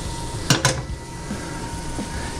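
A utensil stirs and scrapes garlic in a hot pan over low heat, giving two sharp scraping clinks close together and a few softer scrapes over a steady faint sizzle.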